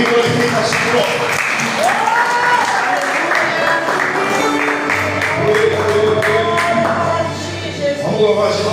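Church congregation at a Sunday service clapping along together, a dense continuous patter of applause mixed with voices singing and speaking over it, steady and loud throughout.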